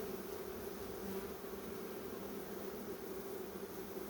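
Honeybees inside a wintering hive, clustered near the back wall, give off a dense, continuous buzzing hum that stays steady and close throughout, with no voices over it.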